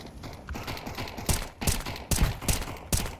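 Gunfire in the Counter-Strike 2 match on the Ancient map while the player moves and shoots, several sharp close shots in an uneven rhythm over a steady background of game sound.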